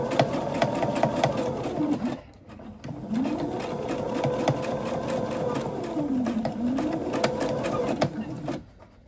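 A sewing machine runs in close, loud bursts while stitching a dog bone Christmas stocking, with a brief pause near the two-second mark before the steady whirring stitch resumes to the end.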